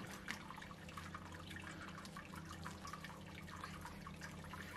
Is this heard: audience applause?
no